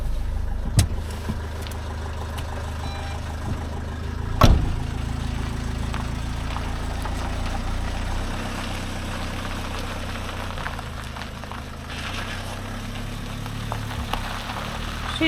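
A camper van's engine idles and then pulls away, a low steady rumble sitting near the microphone, with a couple of sharp knocks or bumps early on and the engine note shifting as it moves off.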